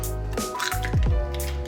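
An egg being cracked for scrambled eggs makes a brief wet squish followed by soft dripping, quiet and close, over a faint steady hum.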